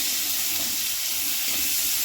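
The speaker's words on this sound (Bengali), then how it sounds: "দিয়ে দেবো পেঁয়াজ কুচি, লাল করে ভালো করে ভেজে নেব।" Chopped onions fry in oil with bay leaves and cumin, a constant close sizzle and hiss that holds steady throughout with no talking.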